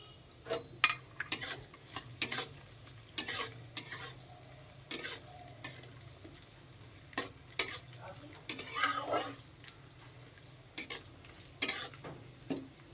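Cashews and raisins frying in a pan for a special basanti pulao, steady soft sizzle under frequent scraping and clinking strokes of a spoon stirring against the metal.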